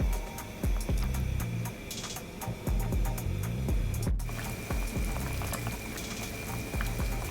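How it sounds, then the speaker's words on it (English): A pot of chicken soup with leg quarters boils on the stove, bubbling and popping steadily at close range under a faint hum, with no voices. "as you can see, our pot is boiling"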